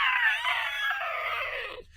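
A human voice imitates a monster's long, strained shriek sliding into a howl, loud and close, about two seconds of continuous rasping wail that fades at the end.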